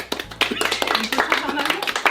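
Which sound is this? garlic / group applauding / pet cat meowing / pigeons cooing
group applauding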